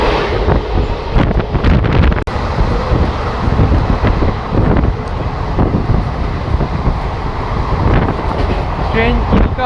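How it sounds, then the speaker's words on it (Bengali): A train rumbles across at night in steady, loud continuous clatter and roar, with wind buffeting the microphone throughout and a brief dropout near the start. "রাতের অন্ধকারে পুরো ট্রেনের ক্রসিং কিছুটা এরকম দেখায়"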